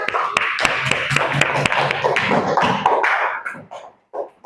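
Students in a junior high school classroom give a burst of clapping, sharp irregular claps that are dense at first, then thin out and fade toward the end.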